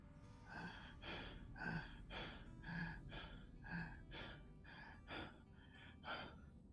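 A voice imitates faint heavy breathing during a tabletop fantasy game session: a slow series of about ten breathy, rasping inhales and exhales, evenly paced and close.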